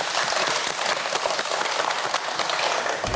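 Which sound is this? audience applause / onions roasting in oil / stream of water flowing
audience applause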